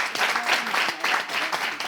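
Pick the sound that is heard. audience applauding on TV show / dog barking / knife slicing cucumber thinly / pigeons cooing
audience applauding on TV show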